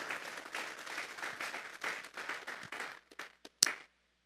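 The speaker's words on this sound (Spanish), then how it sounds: "Vamos a darle una ofrenda de palmas a Dios en esta hora." A church congregation claps together as an offering of praise to God, a dense, lively burst of many hands that thins out into a few scattered final claps before silence.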